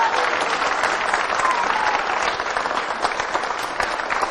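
A crowd applauds loudly and continuously, dense clapping that holds steady throughout.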